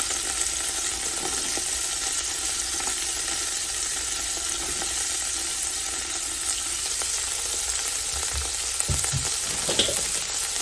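Onion and other vegetables such as carrots and celery frying in a pot for soup, a steady close sizzle with a few stirring clatters near the end.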